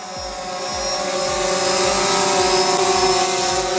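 A drone flies in close on its return to the home point, its rotors giving a steady, loud buzzing whine with a rhythmic pulsing hum that grows stronger as it nears.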